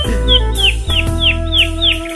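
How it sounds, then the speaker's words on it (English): A canary repeats a series of bright, evenly spaced chirps against a steady background drone, with no talk. "I did manage to grab myself the canary while I was in there"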